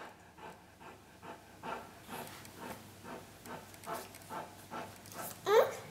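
A dog pants close by in quick, rhythmic breaths that repeat evenly, ending with a brief, sharper vocal sound.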